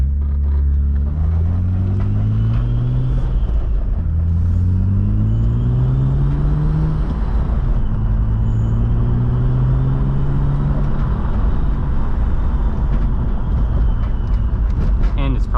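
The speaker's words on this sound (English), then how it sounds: "I can't believe it's running this well without the MAF and double size injectors." Turbocharged BMW E36 M3 engine idling and revving, close and loud, with repeated rising pitch sweeps as the throttle is blipped over a constant deep rumble; running with the MAF sensor unplugged and oversized injectors.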